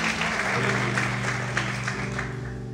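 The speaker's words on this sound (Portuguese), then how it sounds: "Você pode aplaudir o Senhor, você pode glorificar a Deus." A church congregation applauds during an evening service, a steady wash of clapping at moderate level heard over sustained organ or keyboard tones.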